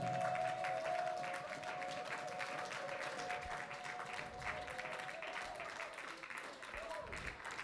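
Church congregation applauding at a French-language worship service, a broad steady wash of clapping that holds for several seconds while a voice talks over it and a sustained tone hums underneath.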